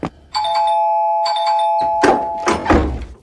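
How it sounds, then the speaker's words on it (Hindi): An apartment doorbell on a 16th-floor landing rings twice, each a clear sustained electronic chime with a ding-dong tone, followed by a few dull thumps and knocks close by. "अक्षत किसी बिल्ले की तरह कूदकर बाहर निकला और सामने ही अपने दोस्त के घर की घंटी बजाने लगा।"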